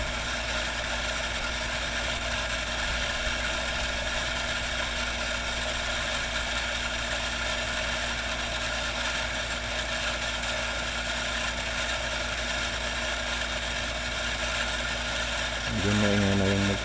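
A water pump motor drones steadily and loudly with a constant mechanical hum, close by and unchanging, with a brief louder rattle near the end.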